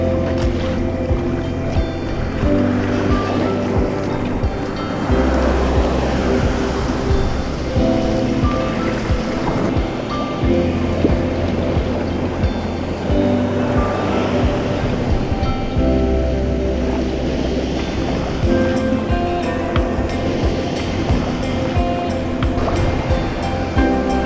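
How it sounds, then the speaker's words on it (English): Ocean swell surges around a sea blowhole at the Farne Islands, heard up close from a sea kayak: loud, rolling surf with repeated heavy wash and churning water, roaring continuously. "The right tide height and 4 to 6 foot swell from the north, giving ideal conditions for the blowhole"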